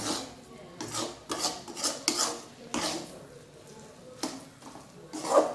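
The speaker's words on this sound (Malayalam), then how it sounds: "പാത്രം വീണ്ടും നമ്മൾ അടിമുടി ഇങ്ങനെ മിക്സ് ചെയ്തുകൊണ്ടിരിക്കുക" Crab curry being stirred in a cooking pot, a series of scraping, rubbing strokes of a spoon against the metal, coming in irregular bursts with brief quiet gaps between them.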